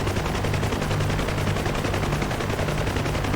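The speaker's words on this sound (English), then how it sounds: "I got bigger machine guns that shoot some green." Helicopter machine guns fire without a break in a video game, a dense, loud, rapid rattle that fills the whole stretch.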